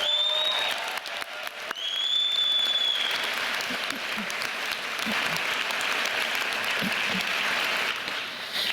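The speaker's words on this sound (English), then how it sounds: "Let's give them a well-deserved round of applause." Commencement audience at a communication studies graduation gives a sustained, loud round of applause for parents and families, dense clapping filling the whole stretch with faint whistles early on.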